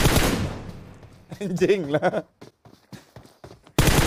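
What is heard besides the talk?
automatic gunfire sprayed in a video game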